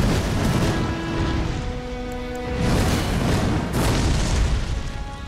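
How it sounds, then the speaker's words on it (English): A large boss-fight explosion in Elden Ring: Shadow of the Erdtree against the Scadutree Avatar booms low and sustained, swelling twice over several seconds amid game effects, with no talk. "How big is that explosion?"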